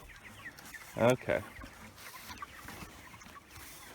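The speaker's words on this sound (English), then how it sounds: "let's get out with the chickens" Chickens on a farm give a few short, loud clucks close by, briefly, while a person speaks a single word over them.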